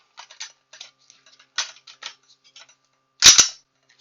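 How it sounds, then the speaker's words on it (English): A ratcheting jerky gun, a grease-gun style tube loaded with ground beef for jerky, clicks in a string of light ticks, then gives one louder double clack near the end, close and alone. "it's like a grease gun. There's a ratcheting system in here."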